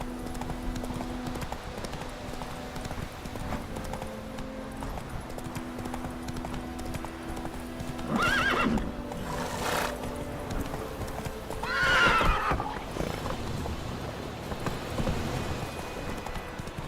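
Roach, the horse in The Witcher 3, gallops with steady rhythmic hoofbeats under a low continuous background, broken by two loud neighs partway through.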